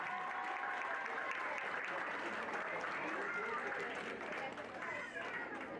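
Applause at an endurance riding club relay awards ceremony for the French vice-champion team, sustained clapping from a gathered crowd with murmured chatter and an announcer's voice running over it.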